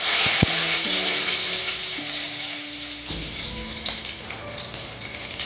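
Bay leaf and five-spice seeds sizzle steadily in hot mustard oil, a bright continuous frying hiss with a sharp tap near the start and faint stirring ticks, nobody speaking.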